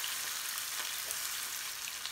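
Onions frying in oil with bay leaf and whole spices for a chicken curry make a soft, steady sizzle, fairly quiet and continuous with no voices.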